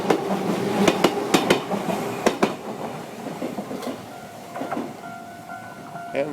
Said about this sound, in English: I have a feeling we're waiting for a train. That's what the ding, ding, ding is.